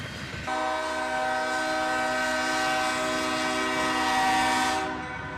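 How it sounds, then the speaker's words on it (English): An intermodal freight train led by a YN2-painted AC44CW and a Dash 8 locomotive passes close by on the adjacent track, its loud sustained horn chord sounding steadily for several seconds before cutting off. "this intermodal would pass on the other track with a YN2 AC44 CW and a Dash 8"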